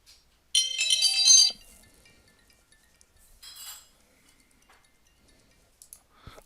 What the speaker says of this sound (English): I'm sorry I had a phone call